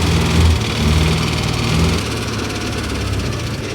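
A Citroën GSA engine idling on eight-year-old petrol, a steady, loud, close rumble with a fast even beat and a slight dip in pitch partway through, with no voices.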